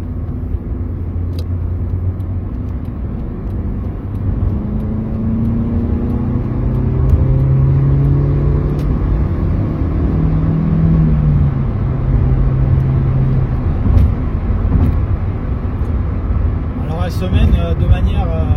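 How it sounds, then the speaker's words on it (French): A 1997 Opel Astra 1.6 16V with 100 hp pulls smoothly through an acceleration run, its engine note climbing steadily in pitch as someone talks over the cabin rumble and whir. "On va essayer de procéder à l'exercice de reprise d'accélération pour voir"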